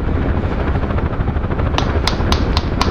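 Rotor of a UH-1H Huey helicopter in the DCS flight simulator, a steady loud close-up whirring drone with faint sharp high clicks or pops near the end.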